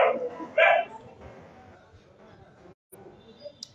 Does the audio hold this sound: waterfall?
no